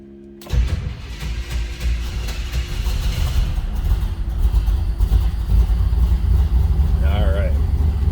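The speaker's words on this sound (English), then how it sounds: "let's go ahead and fire it up so you can hear it run" A 1948 Ford Deluxe Tudor sedan street rod cranks and fires, then settles into a steady, loud rumbling idle close by, with a voice talking faintly over the running engine.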